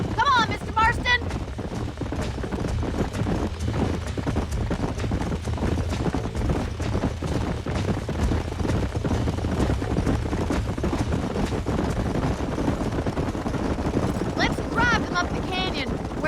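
Rapid, steady hoofbeats of galloping horses in Red Dead Redemption drum continuously, with occasional whinnies and voices talking over the thundering rhythm.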